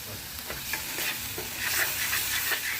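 Tomato paste frying with ground cumin in a pan for a matar paneer curry, a steady close sizzle with intermittent stirring scrapes throughout, no talking.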